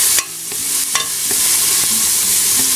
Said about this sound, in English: So you're gonna fry it really well for about a minute and a half.